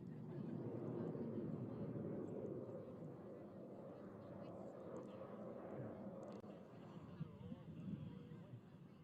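A Blue Angels jet climbs during air show practice, its steady engine roar heard from a distance as a continuous, moderately faint rumble. An announcer talks over it.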